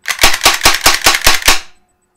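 An M945 airsoft BB gun fires seven sharp, evenly spaced shots in quick succession, loud and close with no talking, then falls silent.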